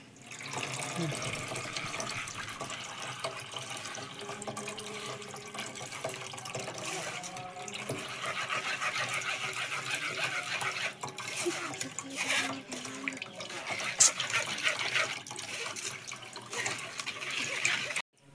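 A summer drink strained and poured: a continuous, fairly quiet splashing stream of liquid that runs for most of the stretch, with a voice speaking intermittently over it.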